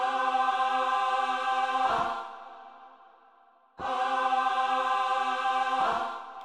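Hysteria Choir preset on a Rob Papen Blade-2 synthesizer: two sustained, bright choir-like chords, each held about two seconds and fading, the second starting after a short gap, played alone with no talking.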